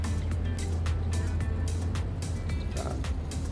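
A truck mod's engine in Farming Simulator 22 drones steadily at low pitch over uneven terrain, a continuous near hum with faint rattles above it.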